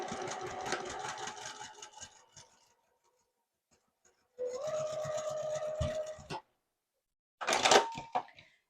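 A sewing machine stitches a fabric seam on a small desktop fabric caddy, running in three bursts of rapid whirring and clacking, separated by short pauses, close and clear with no talk.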